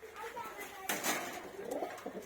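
A fiery red racer pigeon coos softly at close range, with someone talking over the bird throughout.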